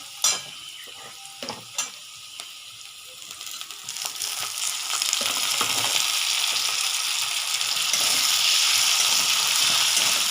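Chopped tomatoes added to fried onion in a pan, a few scraping stirs and clinks, then a loud, steady frying sizzle that swells and holds, close up, no talking.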